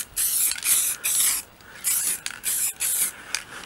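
An aerosol spray can hisses in short repeated bursts while painting a VW Beetle wheel, close and loud, with brief gaps between each spray and a faint rattle as the can is tipped.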